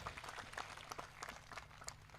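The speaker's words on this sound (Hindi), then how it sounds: "जोरदार तालियां बजा करके आप इनको स्वागत करें" Crowd at an election nomination rally clapping, a short burst of scattered applause heard from within the gathering, moderately faint.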